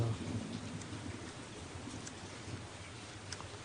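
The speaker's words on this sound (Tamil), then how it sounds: "மழை பெய்யுது" Rain falls in a steady, even hiss of drops throughout a scene from a Tamil-dubbed web series, moderately loud and continuous with no one speaking.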